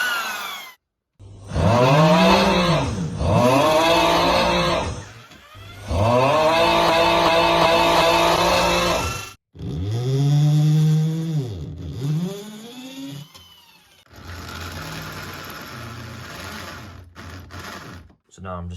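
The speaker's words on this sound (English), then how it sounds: "Right, so I'm about to drill into the wall now." A power drill bores into a wall in several loud bursts separated by short pauses, its motor pitch rising and falling as it winds up and slows down.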